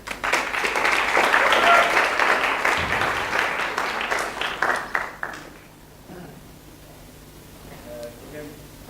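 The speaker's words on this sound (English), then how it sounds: "round of applause for Vlad Saksin." A crowd applauds loudly for several seconds, the clapping thinning out and fading, then quiet room tone with a voice beginning to speak.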